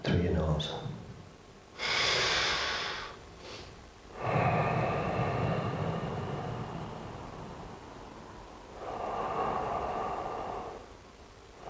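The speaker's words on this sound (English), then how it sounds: "it's 3 deep breaths in through your nose, and 3 deep breaths out through your nose" Slow, deliberate breaths drawn in and let out through the nose during a guided meditation, several long airy swells rising and fading one after another, close and fairly loud with no talking over them.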